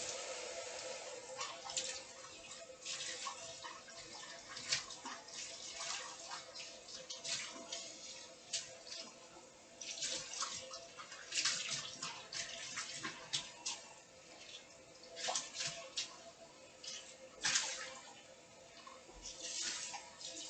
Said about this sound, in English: Then rinse it with water.